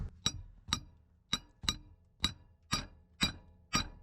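A metal punch is struck with a hammer to loosen a broken exhaust manifold bolt on a Chevy, producing eight sharp, ringing metallic taps at a steady rhythm, close and fairly quiet, with nothing else audible between them.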